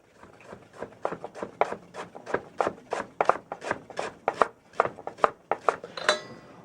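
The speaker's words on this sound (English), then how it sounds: "Fresh ginger is sliced." Sharp knife slicing through fresh ginger on a cutting board, a quick steady run of about twenty crisp chops spaced evenly, close and distinct with no talking.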